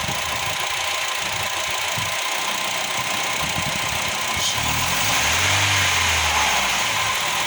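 A car engine idles steadily, then revs up with a rising, swelling drone in the last few seconds, loud and close with no talk.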